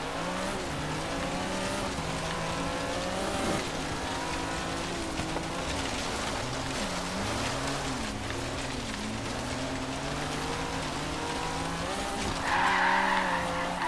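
Alfa Romeo 4C rallycross build in Forza Horizon 3 driving off-road, a steady engine drone with shifting pitch and scrabbling tire noise throughout, rising a little toward the end.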